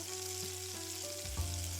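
Golden tofu pieces fry steadily in a pan of oil, a continuous soft sizzle with a faint low hum beneath and a brief clunk near the end as the pan is shifted.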